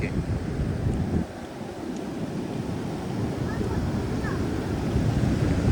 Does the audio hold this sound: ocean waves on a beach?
yes